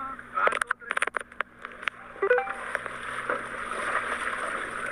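Small boat ride on water off a white-sand coast, with a hum of motion, splashing and wind noise under close voices chatting and laughing, along with clicks and knocks.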